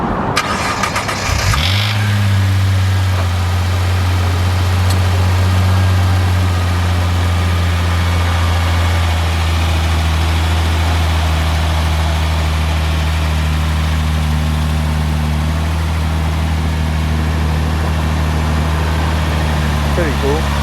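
A stock 2018 Subaru WRX STI fires up and settles into a steady, deep idle with a low, even burble that holds close and loud throughout, while people talk over it.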